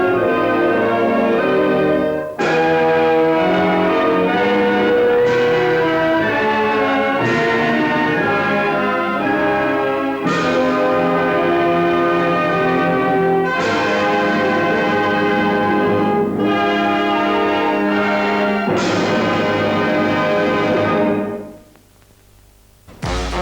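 Wedding bells peal loudly from a church tower, overlapping strokes repeating in an uneven rhythm for about twenty seconds before cutting off abruptly.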